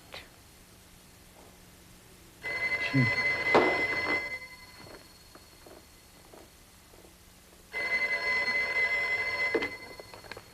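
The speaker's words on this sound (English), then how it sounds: "Richard, the telephone's ringing." An old telephone in a radio detective drama rings in two long electric bursts separated by a pause, with a brief voice and small room sounds between the rings.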